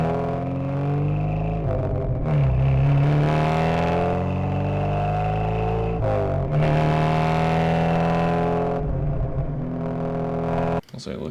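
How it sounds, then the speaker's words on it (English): Car exhaust picked up by two microphones on either side of the rear bumper while driving, a loud sustained engine note rising and falling through repeated accelerations and gear shifts, close and steady with a brief cut near the end. "If I play only the exhaust, which again is two mics on either side of the back bumper"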